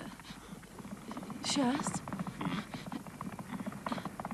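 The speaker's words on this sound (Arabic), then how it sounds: "إنها أصوات حوافر حصان." Horse hooves clip-clop in an uneven rhythm, moderately close, with a brief whinny-like cry partway through; a voice speaks over them.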